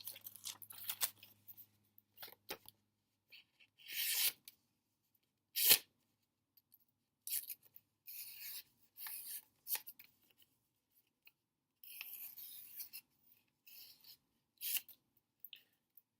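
Monster Knives Belial knife slicing through a sheet of paper, a series of short crisp cutting and tearing strokes separated by quiet gaps, close and fairly faint.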